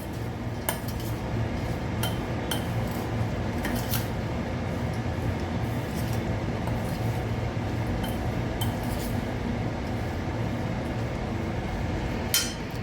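Red chilli pickle is mixed with lemon juice, a soft steady squelching churn with a run of light clinks and taps of a spoon against the bowl at a quiet, close level.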